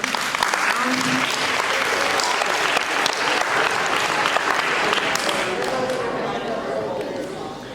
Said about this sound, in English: please hold your applause until my whole seminar is up here